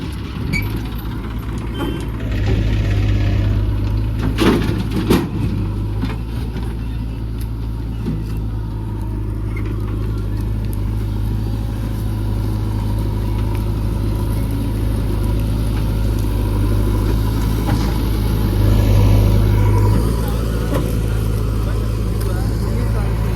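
A farm tractor's diesel engine idles steadily nearby on a rural dirt road, a low constant drone that swells briefly near the end, with people talking over it throughout.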